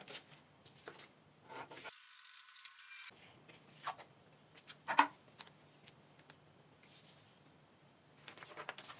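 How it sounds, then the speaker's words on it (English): Scissors cutting out a paper back bodice pattern, a quiet session of intermittent snips and papery rustling in short, irregular bursts with brief gaps between. "Now I'll just cut it out this way"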